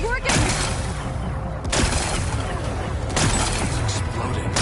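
Blasts and crashing debris in Horizon Forbidden West as rocks are blown away to expose a power cell, with dense loud bursts at the start and again around the middle, layered over constant game rumble and music.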